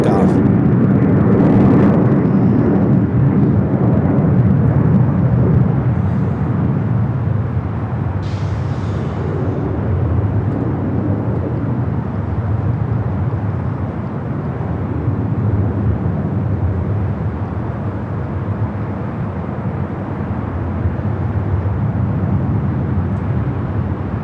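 An airliner taking off from the north side at Los Angeles International Airport: a steady, broad jet roar that holds loud for the whole stretch, with a voice talking over it.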